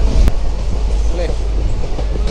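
A moving train heard from inside a carriage on a rainy family trip: a steady, loud rumble of wheels and carriage noise runs throughout, with a brief sharp click near the start.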